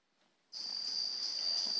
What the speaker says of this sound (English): The earthquake detector may buzz when you turn it on because it detects manual movement.